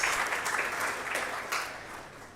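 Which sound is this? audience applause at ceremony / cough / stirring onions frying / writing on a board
audience applause at ceremony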